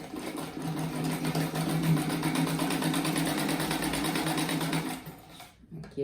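A sewing machine stitches a striped rug, running steadily with a fast, even whir for about five seconds before stopping near the end.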